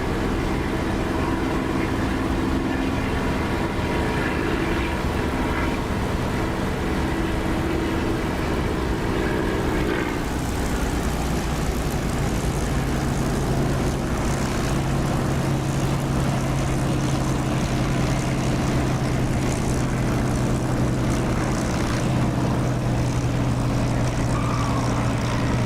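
A propeller aircraft comes in to land in the DCS flight simulator, a loud, steady engine drone that runs without pause and shifts tone about halfway through as power changes, with no voices.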